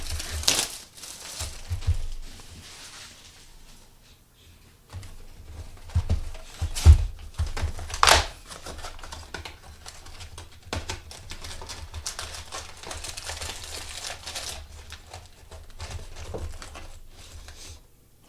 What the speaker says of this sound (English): let's get this box cracked, open and ready